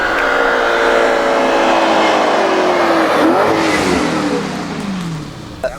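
A 2013 Audi RS5 drives hard, its engine revving loudly and climbing in pitch, with a gear shift partway through before the sound eases off near the end.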